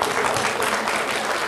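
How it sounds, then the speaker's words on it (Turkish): Applause for a provincial chairman: a crowd claps loudly and densely throughout, with no pause. "il başkanımızı şöyle kuvvetlice bir alkışlayalım"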